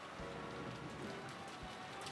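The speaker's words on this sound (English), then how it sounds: "Though she had an umbrella up, Erika got drenched and she sprinted." Rain sound effect from the visual novel game Umineko, a dense steady downpour hissing continuously across the whole clip with a couple of soft low thumps, loud and close without any voices.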